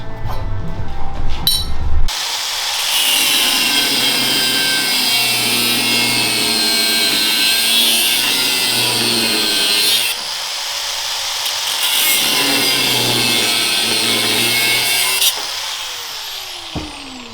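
Power tool cutting along a marked line on a Nissan Navara body panel, a loud grinding, rasping cut that runs in two long stretches separated by a short pause, preceded by some handling noise.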